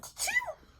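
A single short sneeze sounds close and fairly soft, a quick breathy burst with a bright, tonal sweep that fades within a second.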